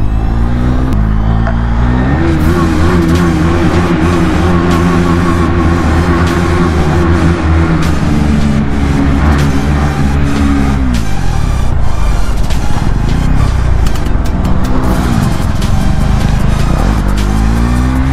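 A motorcycle, a 310, revs hard while overtaking on a mountain road in Uttarakhand, its loud engine rising and falling in pitch through repeated throttle pulls, with other traffic passing close by.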